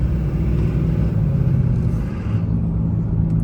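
A Duramax diesel truck engine idles close by with a steady low rumble and a slight uneven skip in its rhythm.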